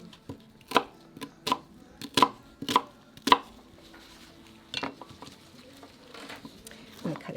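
Knife rough chopping butternut squash on a cutting board for soup, five sharp evenly spaced chops followed by a few softer irregular cuts, close and clear with faint background talk.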